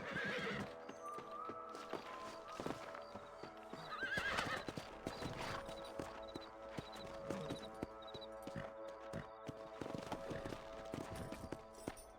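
Horse hooves clip-clop in a steady rhythm alongside a horse whinnying in the video game Red Dead Redemption, set against a layered musical backdrop, with no voices.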